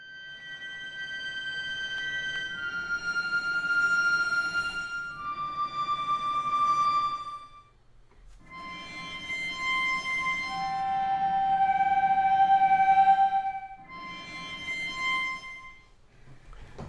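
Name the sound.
nasal sound layered with Spitfire Frozen strings cello harmonics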